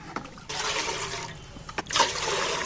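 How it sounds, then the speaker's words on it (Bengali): Water pours into a cooking pot set on the stove: a steady, close splashing rush that runs continuously for a couple of seconds after a brief start. "জল দিয়ে দিচ্ছি।"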